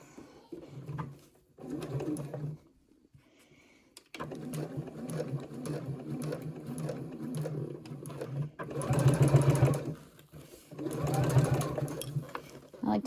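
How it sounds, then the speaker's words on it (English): A sewing machine stitches a zipper pouch seam in several close bursts, running back and forth to reinforce it, with pauses between runs and a speaking voice heard at times. "I like to go back and forth over that seam a couple of times just to reinforce it a bit."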